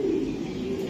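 A racing pigeon gives a low cooing rumble, close and steady for about a second, with no other sounds over it.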